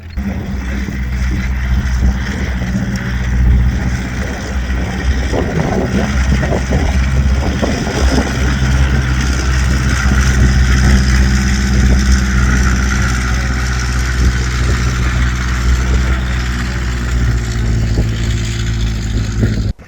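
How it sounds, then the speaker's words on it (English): A PBV 301 armored vehicle with a four-cylinder air-cooled boxer engine runs loudly and continuously nearby at an armored regiment visitors day, a steady, droning, airplane-like engine roar with little variation. "The PBV 301 had a peculiar engine sound. It sounded almost like an airplane."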